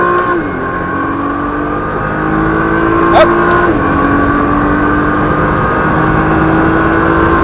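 A Nissan GT-R engine at full throttle, a loud sustained drone close up that rises steadily in pitch, drops briefly at a gear change, then climbs again.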